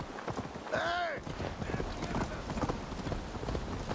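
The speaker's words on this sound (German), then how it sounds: "Das ist einfach so ein Pferd erschienen vor mir." Horse hooves clip-clop in the Assassin's Creed Valhalla video game as a horse suddenly appears in a rainy setting, with steady hoofbeats layered under game ambience and a brief whinny-like tone early on.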